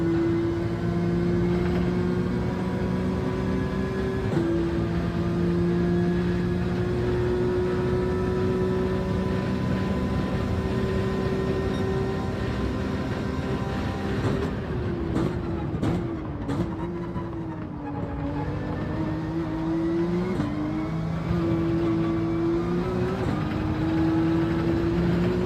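A Gr.3 Porsche race car engine in Gran Turismo 7 drones at steady high revs, with tonal whine shifting as it brakes and accelerates through corners, continuous and loud.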